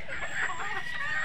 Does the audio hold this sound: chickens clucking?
yes